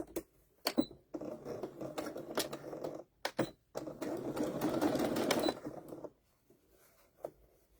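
A sewing machine stitches the opening of a KitchenAid bowl cover in bursts of rapid mechanical chatter, close and clear, broken by brief pauses and taps.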